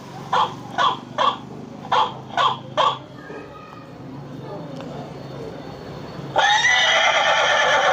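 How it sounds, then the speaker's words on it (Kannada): A horse whinny played as an alert sound by a security camera rings out loudly and alone near the end, after a run of six evenly spaced barks from the same device. "ಕುದುರೆ ಅದು"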